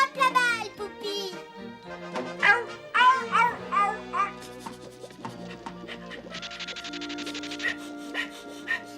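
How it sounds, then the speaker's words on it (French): A cartoon puppy barks and yips in quick bursts, then whimpers, mixed with a voice and playful background music in an animated Smurfs episode. "Le vilain chien, n'est-ce pas?"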